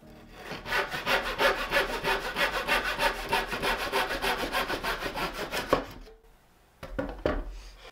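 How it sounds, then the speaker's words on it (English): A handsaw cuts through poor-quality wood, working to a square line, with steady rapid back-and-forth strokes for about six seconds before stopping, then a couple of brief scraping sounds, close and clear. "as square as you can get with a handsaw and some really crappy wood"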